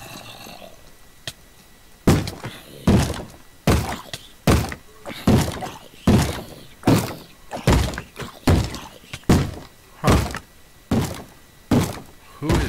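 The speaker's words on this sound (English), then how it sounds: "Who is beating at the door?" Heavy thuds in a video game as a zombie beats at a door, a long run of loud, evenly spaced blows about every half second after a quiet start, with one short murmur.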